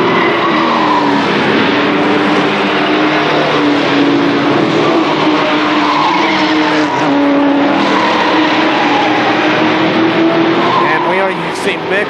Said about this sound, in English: you can just hear those tires squeal as those cars come through turn number four